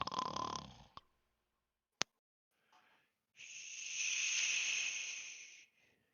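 A human voice imitating snoring during a Dungeons & Dragons tabletop session: a short throaty snort, a click, then a long raspy breath in the second half, close and isolated against silence.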